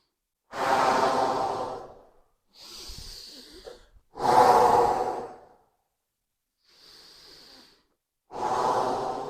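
Deep slow breaths during a qi gong exercise, close and clear: three long audible inhales or exhales alternating with softer breaths, separated by short silences, no speech.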